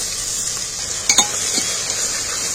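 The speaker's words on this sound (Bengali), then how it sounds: "রসুনটাকেও আমি সেইভাবেই ঘেঁটে ঘেঁটে ভাজছি।" Garlic paste is fried over onions in a pan for a mutton curry, giving a constant hissing sizzle with a couple of sharp close scrapes of a spoon stirring, and no voices.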